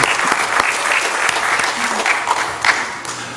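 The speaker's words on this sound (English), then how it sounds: "if you want to give him a round of applause" A crowd applauds a person being honored at a public board meeting, steady clapping throughout, fairly loud and close, with a few voices mixed in.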